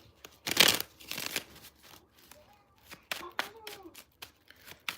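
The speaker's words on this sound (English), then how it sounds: "One more shuffle." Tarot cards are shuffled by hand in a few quick riffling and slapping bursts, close and moderately loud, with quiet gaps and soft handling noises between them; a voice speaks briefly in the middle.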